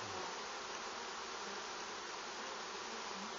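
Honey bees swarm over an opened hive at a teaching apiary, their dense, continuous buzzing close and loud, holding steady with no voices over it.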